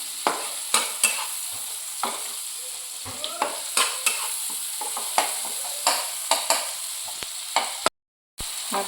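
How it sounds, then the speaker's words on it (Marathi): Onion softening in hot oil with a pinch of asafoetida, sizzling steadily while a spoon stirs and scrapes the pan in sharp, repeated clicks, close up with no talking; the vegetable is spiny okra (kate bhendi). "छान जरा कांदा चांगला शिजेपर्यंत त्याला शिजू द्यायचं तेलावर मऊ होईपर्यंत"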